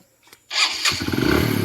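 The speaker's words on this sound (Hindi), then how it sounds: "वैसे ही हमारा जो बाइक है वो स्टार्ट हो चुका है।" A GPS-tracked motorcycle cranks with a starter whir, then its engine catches and settles into a loud, close, pulsing idle.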